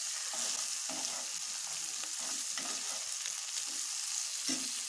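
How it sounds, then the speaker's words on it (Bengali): An egg fries in a pan for a chow mein dish, giving a steady close sizzle with soft stirring scrapes at intervals throughout. "ডিমটা ভালো মতন ভাজা ভাজা করে নিচ্ছি।"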